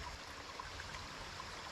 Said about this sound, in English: This stream here is Rattling Run.